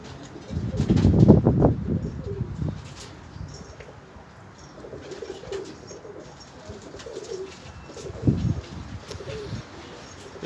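Pigeons of matching color and lineage in a loft coo in low, throaty bursts, a loud close burst early on, softer cooing in the middle and another clear coo near the end, with faint rustling and a wing flap.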